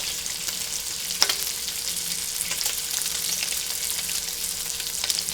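Grits being stirred into boiling stock while bacon fries nearby, a constant close sizzle and crackle with occasional sharp pops and light stirring scrapes throughout.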